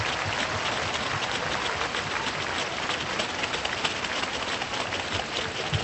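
Sustained, dense crowd applause at Singapore's National Day Parade 2017, a steady broadband wash of clapping from a large stadium audience holding at an even level throughout, with no speech over it.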